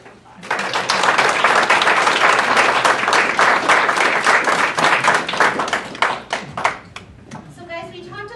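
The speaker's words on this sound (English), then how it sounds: "will you also give this amazing team a round of applause?" A banquet audience at a Kiwanis annual dinner gives a sustained round of applause, loud dense clapping that holds for several seconds and then thins into scattered claps before fading.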